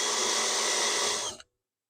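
A drill whines at a steady high pitch while boring 3/4-inch holes in a truck bumper, running loud and close for over a second before cutting off abruptly into silence.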